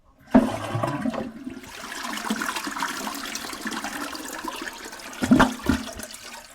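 A toilet flushes loudly and close by, a rushing, gurgling surge of water that swells, holds steady, then ends with a few sharp splashes and drains, with no talking over it.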